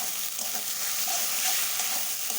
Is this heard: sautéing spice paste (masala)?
yes